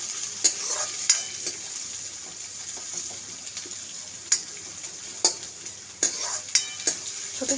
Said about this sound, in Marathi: कांदा कोमून घेऊया.